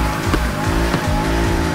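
A tuned Chevrolet Camaro Z28 in Need for Speed Heat roars steadily at high revs, its loud, close engine drone rising and dipping slightly with faint tire noise underneath.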